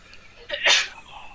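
A single sharp, close human sneeze bursts out after a short breathy intake, during a tabletop role-playing game session.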